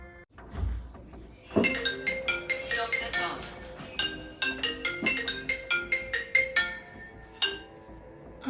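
A bright melodic ringtone plays in a repeating pattern of chiming notes, fairly close, with no voices over it.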